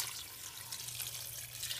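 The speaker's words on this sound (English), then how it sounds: "Now I'm going to add 2 quarts of water." Cold water pours steadily into a cooking pot for seafood gumbo, a close, continuous splashing rush lasting under two seconds with no speech.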